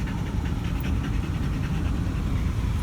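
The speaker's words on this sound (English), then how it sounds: "As you can hear, Chase is panting back there" Dog panting in the back of a car on a hot road trip, rapid rhythmic breaths close by over a constant low road and engine rumble.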